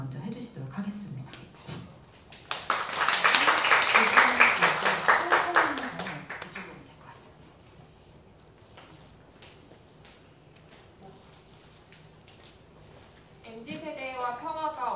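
At a Korean youth conference, the MZ POP CON, an audience bursts into brisk clapping that swells for a few seconds and then fades, with someone speaking Korean at a lectern before and after.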